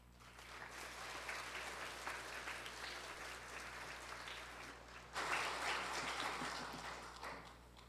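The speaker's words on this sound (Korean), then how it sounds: "뜨거운 박수로 한번 환영해 주시면 감사하겠습니다" A church congregation claps warmly to welcome a pastor at a Sunday service, a continuous roomy applause that swells louder partway through.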